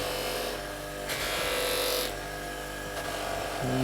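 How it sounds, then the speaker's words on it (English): A golf iron's sole is polished by hand during a refurbishment, giving a soft, steady rubbing and rasping close by, with two louder swells of friction and no talk. "I'm just gently starting on the sole of the club and I'm just polishing away"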